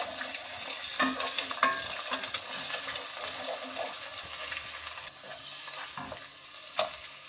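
Eggs cooking in a pan for breakfast give a steady sizzle and light stirring scrapes, close and continuous, with a few sharper clicks and taps of a utensil.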